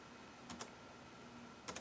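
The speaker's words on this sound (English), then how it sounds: "I got to be careful with what I'm typing in here." Light key presses on a slightly wonky laptop keyboard, a couple of quick clustered clicks separated by a pause, faint and close over a steady low hum.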